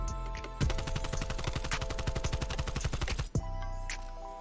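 AK-74U submachine gun in Call of Duty Black Ops Cold War firing a long, rapid automatic burst of close, loud, evenly spaced shots, stopping sharply with a final crack, then a few faint mechanical clicks.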